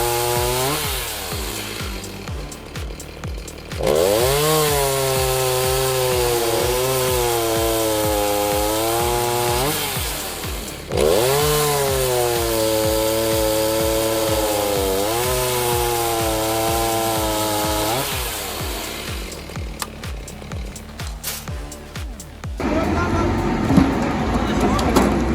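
A chainsaw cuts logs at a pallet-rack cutting station beside a roller conveyor, its engine rising into two long, loud, wavering cuts before idling and dropping away, with voices talking faintly around it.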